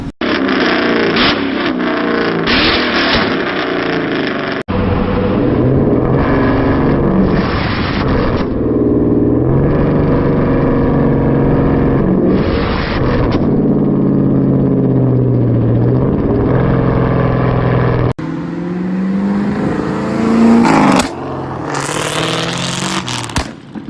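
A Mustang GT engine revs and rumbles loudly with sharp backfire pops from the exhaust, the note rising and falling through several throttle blips.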